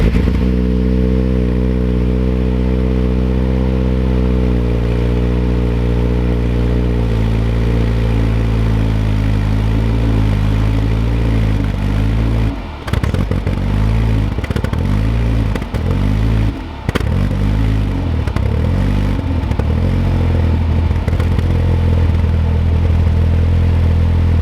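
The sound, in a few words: turbocharged car engine running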